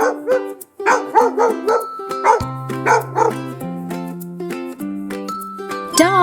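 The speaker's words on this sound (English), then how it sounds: "Dog." A dog barks and yips in a lively, repeated series of loud, close barks, with brief whimpering tones between them.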